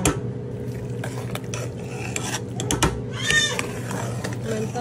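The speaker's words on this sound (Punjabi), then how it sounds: "ਆਪਾਂ ਇਹਦੇ ਵਿੱਚ ਧਨੀਆ ਪਾ ਕੇ ਇਹਨਾਂ ਨੂੰ ਚੰਗੇ ਤਰੀਕੇ ਨਾਲ ਮਿਕਸ ਕਰ ਲਾਂਗੇ" Potato, pea and carrot curry with coriander being stirred in a pot: close scraping and clinking spoon strokes come in uneven bursts over a low sizzle.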